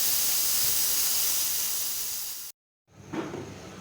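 A cooking pot of beef trotters curry is opened and releases a loud, steady rush of hissing steam. The hiss stops abruptly and is followed by a short silence and then some soft clatter.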